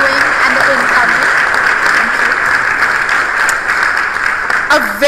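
Delegates at a senior-level international meeting give the co-chairs a warm round of applause, sustained and fairly loud, with faint voices and a brief tonal sound near the end.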